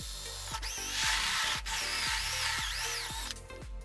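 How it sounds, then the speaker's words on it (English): A hole saw spun by a power drill grinds through a rubber tire, giving a steady, loud whirring rasp with repeated rhythmic thumps as the cutter bites, running continuously with no talk. "So I'm going to use a hole saw and a drill."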